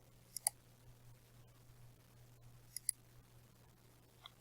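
Computer mouse clicks, two quick double-clicks about two seconds apart and one fainter single click, close and crisp over a quiet low hum.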